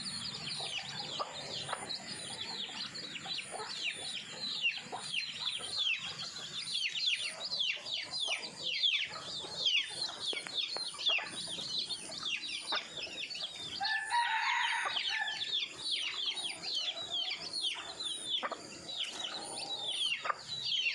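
Several chickens, including a crossbred hen, cluck and a rooster crows repeatedly over a steady bed of outdoor noise, the calls overlapping at close to moderate distance.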